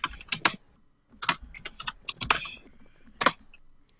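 Typing on a computer keyboard for in-game chat in Scrap Mechanic, with close, crisp bursts of keystrokes separated by brief pauses and a final key press at the end.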